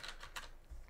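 Computer keyboard shortcut keys pressed while working in the Unity game editor, a few quick clicky keystrokes close up with no talking.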